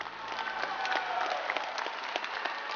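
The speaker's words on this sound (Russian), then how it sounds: "Ваши аплодисменты!" Concert audience applauding at a pop show, steady dense clapping from a large crowd throughout, moderately loud and unbroken with no talk over it.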